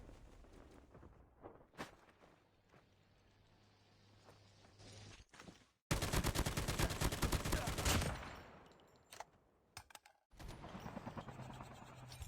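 An AK-47 fires in Call of Duty Mobile battle royale: a rapid burst of automatic gunfire mid-clip, with quieter game ambience, footsteps and scattered shots before and after.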